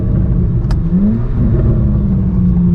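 Corvette C8 Z06 fitted with a titanium race exhaust, heard from inside the car as a loud, steady engine drone with a rising pitch sweep, continuous for nearly three seconds.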